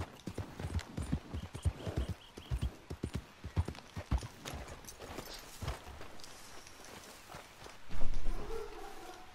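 Horse hooves clip-clop steadily in Red Dead Redemption, a quick rhythmic run of close, distinct hoof strikes that thin out toward the end, where a louder burst of game noise takes over.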